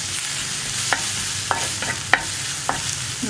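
Green chillies for a Kerala mackerel (ayala) curry are sautéed and stirred in a pan, a steady sizzle punctuated by several crisp spatula clinks and scrapes at uneven intervals, close up with no speech.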